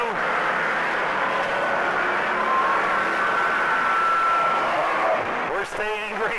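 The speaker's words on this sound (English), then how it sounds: "Cars everywhere in turn 2." Race car engines roar continuously on a dirt track at Auburndale, a loud, dense drone with a crowd-like wash and commentary-style talk over it.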